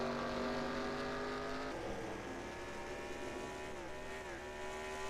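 A race car in a racing video game on the Charlotte Roval pushed to full throttle, its engine whine holding steady and then sweeping upward as it accelerates, loud and continuous.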